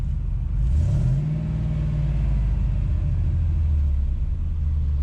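A car engine running after its fuel injectors were cleaned, with timing problems and possible misfires: a loud, close, deep idle rumble with a brief rev rising and settling back to an uneven, steady drone.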